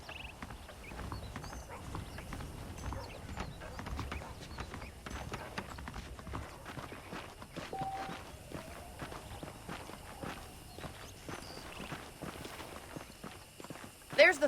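Steady clip-clop of horse hooves at a walking pace in the video game Red Dead Redemption, mid-distance, with a faint rustling ambience throughout and a brief louder burst at the end.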